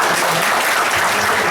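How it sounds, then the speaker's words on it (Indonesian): Audience applause at a Prudential agent gathering, a dense steady wash of many hands clapping at full volume throughout the short burst, with no voices standing out. "Boleh tepuk tangan dong."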